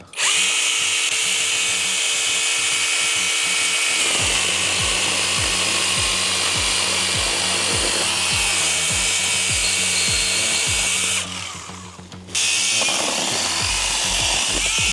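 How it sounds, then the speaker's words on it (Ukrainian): Small cordless mini chainsaws, a Husqvarna and a ProCraft PKA 32 Li, cutting through wood, a continuous loud buzzing whine with rhythmic rasping strokes, a brief dip in the motor noise near the end. "давайте попробуємо, яка пилка скорше пиляє, чи хоскварна, чи прокрафт"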